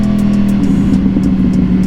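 A Honda CBR600RR motorcycle engine runs close and loud with a steady droning growl, with brief rises in pitch.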